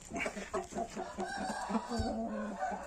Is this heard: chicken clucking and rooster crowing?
yes